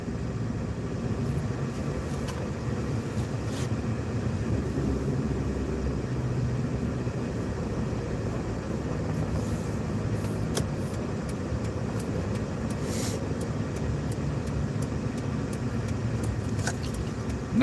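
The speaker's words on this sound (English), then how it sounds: "we're running into traffic now" Road traffic on the way toward Branson heard from inside a moving vehicle, a steady broadband rumble of tires and engines with occasional brief passing swells, continuous and fairly loud, with no talking.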